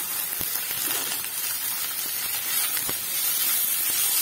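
Garlic and coriander roasting in a pan with already-roasted coconut for a soya chunks curry masala, giving a steady bright hiss like steam with a few faint clicks, no talking.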